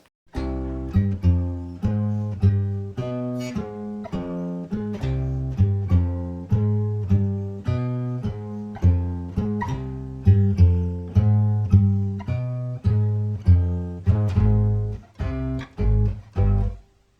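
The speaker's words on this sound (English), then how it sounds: "the bass part here is very syncopated" A syncopated bass line from a song plays alone, loud and close, with short punchy notes landing on and off the beat in a steady, bouncing groove that grows more accented toward the end.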